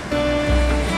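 The Kunhar river gives off a constant loud roar of rushing water with a low rumble that swells slightly partway through.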